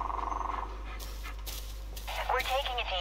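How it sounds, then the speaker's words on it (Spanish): A dog in the Blair Witch video game pants in quick rhythmic breaths, fairly close, while someone talks over it and other game sounds rise toward the end. "¿Dónde está el perro?"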